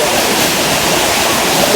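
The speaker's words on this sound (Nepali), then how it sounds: "यहाँ कपडा झर्ना रहेछ" Jhor Waterfalls near Tokha in the Kathmandu valley pour with a steady, loud broadband rush of falling water, close by and continuous, with no voices over it.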